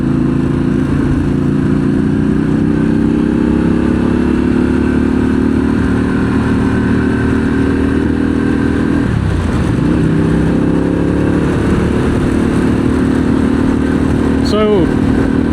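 A 2023 Harley-Davidson Pan America Special motorcycle rumbles at a steady riding pace, loud and constant, with a brief dip in engine pitch midway and a short whine near the end.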